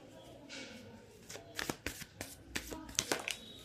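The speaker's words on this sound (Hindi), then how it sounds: "हम 1-2 कार्ड्स लेते हैं यहाँ से गाइडेंस के लिए" Tarot cards are shuffled by hand in a quick run of crisp riffles and taps, close and distinct, with a voice speaking softly around them.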